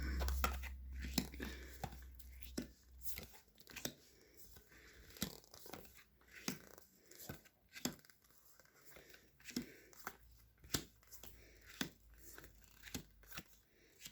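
Tarot cards shuffled and drawn, heard as a string of sharp, crisp papery snaps and flicks at irregular intervals, fairly close but quiet, with no talking.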